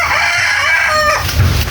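A pet rooster crows loudly and close, one long drawn-out call that rises and then falls away, with a low cluck at its tail and no voices.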